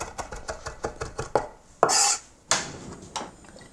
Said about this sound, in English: it's like I'm always chopping parsley